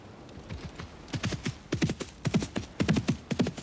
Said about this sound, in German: Mein Pferd läuft ganz langsam auf der Wiese.